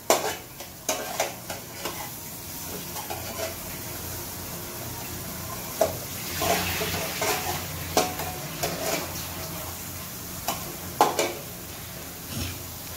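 Pumpkin pieces fry with shrimp and onion in hot oil, giving a soft continuous sizzle broken by repeated clinks and scrapes of a utensil stirring against the pan.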